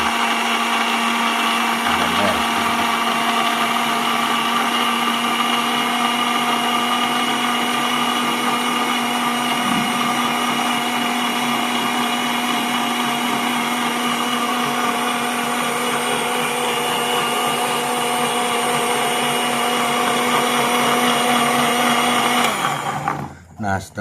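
A blender runs steadily and loudly, grinding garlic with water into a fine paste, a continuous high whir with a constant motor hum that stops abruptly near the end.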